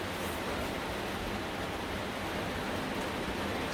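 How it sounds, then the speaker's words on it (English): Torrential rain pours outside a parked school bus converted into a motor home, a dense, unbroken hiss of heavy downpour at constant loudness with no other sounds. "We're experiencing torrential rain."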